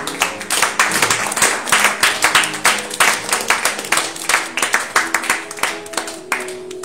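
A church congregation applauds during a Tuesday worship service, a dense run of hand claps that swells and pulses steadily and fills the room for several seconds, with no talk over it.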